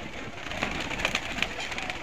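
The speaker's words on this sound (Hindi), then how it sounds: "ये देखो सब कबूतर बाहर आने लगे हैं" Many pigeons freed from their cages flutter and coo in a steady, moderate wash of wingbeats and soft calls, with a few sharper chirps nearby.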